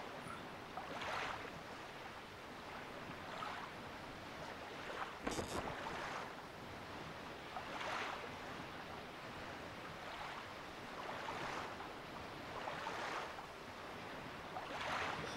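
Ocean waves and wind surround a sailing boat in The Legend of Zelda: Wind Waker, with a soft steady rush and regular swells of wave noise about every one and a half seconds, broken by one brief sharp effect.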